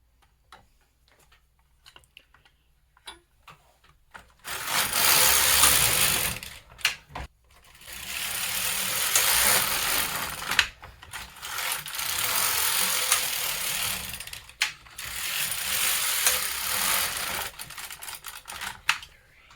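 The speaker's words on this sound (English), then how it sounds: "Thread the contrast color and knit 4 rows." A knitting machine carriage runs four rows of contrast-colour yarn on a hemmed brim hat, sounding as four loud, steady whooshing passes of a few seconds each with short quiet gaps between them.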